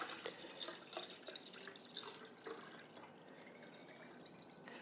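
Water pours steadily into a container of a bit more than a quart, set out for dampening seed-starting trays. It makes a soft, continuous trickle and splash with small drips, fairly faint and with no talk over it.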